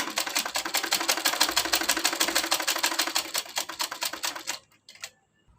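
A sewing machine stitches a kurti neckline in a fast, even run of close mechanical clatter that slows and stops near the end, followed by a brief final burst and silence.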